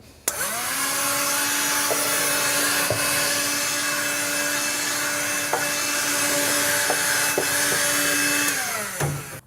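A vacuum cleaner clears debris from a kitchen larder cabinet, running at a steady loud whine from start to finish with a few brief knocks and scrapes as the nozzle moves around the runners.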